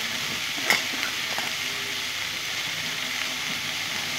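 Washed greens (saag) frying in a pan, a steady soft sizzling hiss with a brief clatter of stirring near the start, close and even throughout, no voices.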